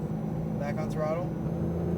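A race car engine comes back on throttle on a track at Speed Vegas, a steady low drone rising in pitch under an instructor's voice.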